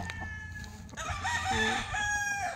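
A rooster crows on a farm, nearby and fairly loud, with other fowl and a low background hum.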